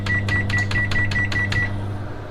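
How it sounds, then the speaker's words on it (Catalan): Microwave oven used to cook for about five minutes, with a steady hum under a series of roughly eight quick, evenly spaced beeps that then stop. "Les posem al microones 5 minuts aproximadament."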